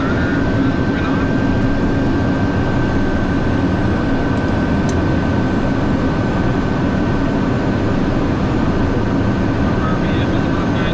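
A Pilatus PC-12NG turboprop engine runs through its start-up, a loud, steady, broadband roar with a constant high whine on top, heard close from inside the aircraft.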